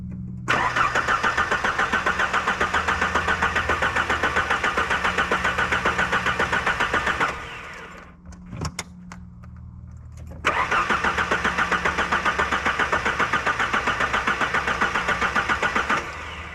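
A Ford Pinto cruising wagon fitted with a swapped 2.3 Lima engine cranks in a loud, even, rapid rhythm without catching, pauses for a few seconds, then cranks again just as steadily, with no talking.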